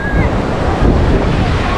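Strong wind buffets the microphone as sea waves wash in at Akçakese beach in Şile, a loud, steady roar of surf and gusts with no break.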